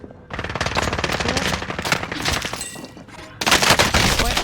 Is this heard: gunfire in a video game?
yes